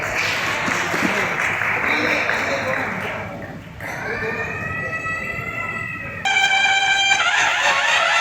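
At a police officer's retirement felicitation ceremony, an audience claps in a dense, sustained round of applause. The clapping then fades into a wavering, tonal electronic sound that carries on loudly to the end.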